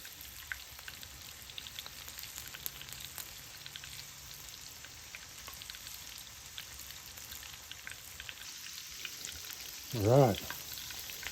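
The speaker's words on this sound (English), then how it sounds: "we're just gonna fry them dudes till they're golden brown" Scotch eggs deep frying in hot oil give a steady, soft sizzling hiss that runs throughout, with a brief louder bubbling burst near the end.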